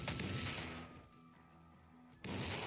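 Rapid M4 rifle fire in a zombie shooting video game, a loud volley that fades into quieter game sounds before another sharp burst erupts at the end.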